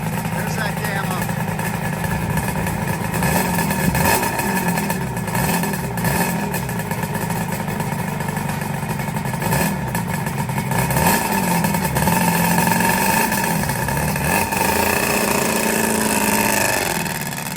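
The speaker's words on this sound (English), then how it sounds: "That is 1986 Suzuki RG 500 Gamma, incredibly collectible, wasn't offered in the United States." A 1986 Suzuki RG 500 Gamma two-stroke motorcycle engine running, a loud, continuous close engine buzz with small rises and dips in pitch, with voices talking over it.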